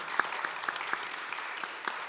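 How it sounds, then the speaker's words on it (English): Applause from a conference plenary audience on higher education, steady broadband clapping filling the room with a few sharper individual claps standing out, moderately loud and continuous throughout. "Big applause."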